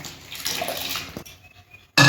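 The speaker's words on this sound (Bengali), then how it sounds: "ডালটা আমি দিয়ে দিচ্ছি।" Lentils tip into hot water in a cooking pot for a sour mango-masoor dal, making a short watery splash and pour, then a brief quiet before another sudden burst of sound.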